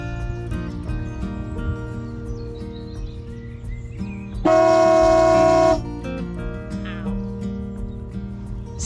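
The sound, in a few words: stainless steel air horns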